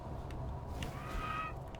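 A giant bird in The Falconeer squawks in a brief, moderately loud call over steady low game ambience and background music.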